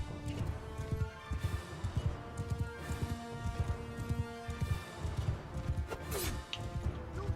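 Rapid hooves clip-clop in a steady galloping rhythm amid clashing action in the video game Bannerlord, with a brief whinny near the end.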